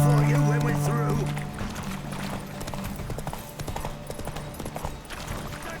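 A horse's hooves clip-clop at a gallop in The Witcher 3: Wild Hunt, a steady rhythmic pounding that runs under a voice at the start.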